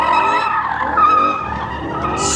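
BMW tires skid on a race track during a track day, a loud, close, continuous screech lasting a couple of seconds with engine noise beneath.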